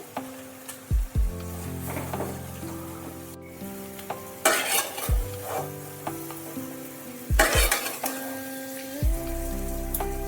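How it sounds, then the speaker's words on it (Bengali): Potato pieces sizzle steadily in hot oil while a metal spatula stirs them, with several ringing clanks and scrapes against the pan punctuating the constant frying hiss; no one speaks. "এবার আমি বাকি পটেটোগুলো দিয়ে দিলাম। ভালো করে এবার নাড়াচাড়া করে নিতে হবে।"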